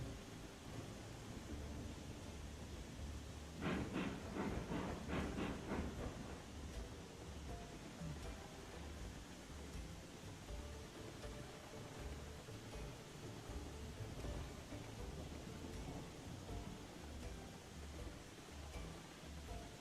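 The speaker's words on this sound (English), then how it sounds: "Can it stop raining every 5 fucking seconds?" Rain and thunder in the video game Railroads Online: steady rain hisses throughout with a low rumble of thunder beneath it, and a brief rattling patter stands out early on.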